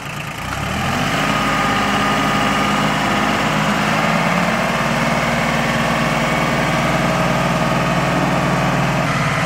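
A tractor engine idles steadily at close range, starting up in the first second and then holding a loud, even low rumble with constant vibration, with no voices.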